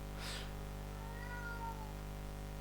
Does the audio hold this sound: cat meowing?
yes